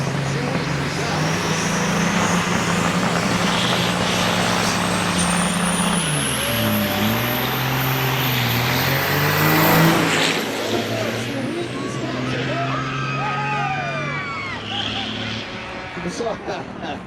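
Big rig trucks race at Onaway Speedway in the Great Lakes Big Rig Challenge, diesel engines roaring loud and near with rising and falling pitch as they pass, air brakes hissing, while voices talk over the noise.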